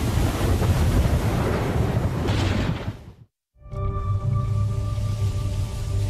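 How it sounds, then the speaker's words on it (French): Rough, choppy seas in the Bermuda Triangle: a dense, continuous roar of waves and gusting wind, loud and close, briefly dropping out midway before resuming with a steady tonal hum, likely a boat's engine, under the surf. "Tous ces éléments combinés créent une mer très instable et agitée avec des vagues scélérates."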